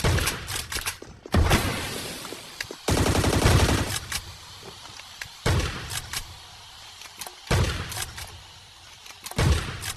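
Bursts of gunfire in the Scarfall battle royale mobile game, Mumbai map: several loud rapid volleys separated by short pauses, with single sharp shots scattered between them.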